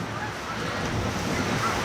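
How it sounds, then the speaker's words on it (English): Strong wind on a gusty day blows across an open lawn by a house, making a continuous roar and rumble of buffeting against the microphone. "Another absolutely crazy windy day"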